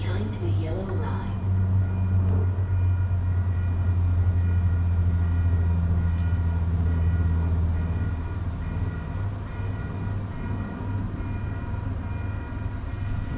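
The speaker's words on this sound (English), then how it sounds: "More trains arriving." LRT light rail train arriving at a station, a loud steady low rumble of wheels and motor that persists throughout, with brief platform sounds early on.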